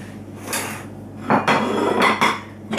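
A metal spoon stirs sugar, orange zest and raisins together in a mixing bowl, giving a few separate scraping and clinking bursts close by, with quieter pauses between them.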